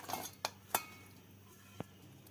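Pieces of fish set down one after another into a large tiffin box, giving a few sharp, light clinks and knocks of food and container spaced apart against a quiet kitchen background.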